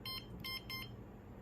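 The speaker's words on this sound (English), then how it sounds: "Once you release the button, 3 beeps will sound and the keypad will flash." Wyze Lock Bolt fingerprint deadbolt beeps three times as it enters pairing mode, short bright tones in a quick even row, close and fairly loud over quiet room noise.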